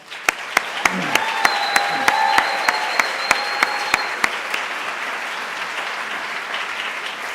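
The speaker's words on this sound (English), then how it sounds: "So a round of applause for the team" Applause at a Physician Assistant Studies white coat ceremony fills the room for the new faculty team, a steady wash of clapping from a large audience that holds evenly and fades slightly toward the end.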